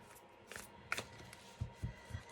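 Soft, quiet riffling and tapping of tarot cards being shuffled, a few brief bursts in a hushed room.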